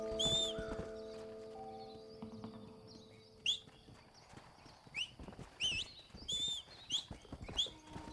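Horse hooves clip-clop at a steady walk in the video game Red Dead Redemption, fairly faint and rhythmic, with bird chirps and tweets scattered over the top throughout.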